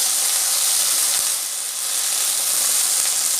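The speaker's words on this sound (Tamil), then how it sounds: "வெண்டைக்காய் வந்து கலர் மாறாமல் நம்ம வதக்கி எடுக்கணும்" Okra sautéing in a pan with steady, even sizzling hiss throughout, close and continuous with no voices, dipping slightly midway as it is stirred.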